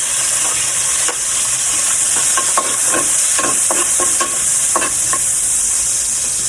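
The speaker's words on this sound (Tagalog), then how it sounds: "So, let's gisa-gisa na guys. Unahin ko yung bawang." Garlic sautéing in hot oil in a home kitchen pan, a steady bright sizzle running throughout with repeated scraping strokes from stirring, close and loud with no talking.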